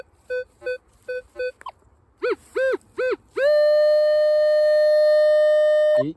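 Minelab metal detector beeps over buried iron: short clipped tones, then a few warbling chirps, ending in a long sustained steady tone, loud and clear outdoors with no voices.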